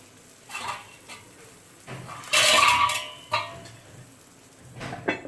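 A metal lid clatters onto a cooking pan with one loud, bright clank, surrounded by a few lighter kitchen knocks and scrapes.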